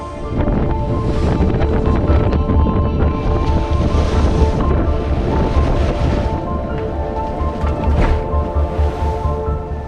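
A sailboat cuts through waves in the English Channel off Guernsey, with steady rushing surf and water wash under heavy wind buffeting the microphone, continuous and loud throughout.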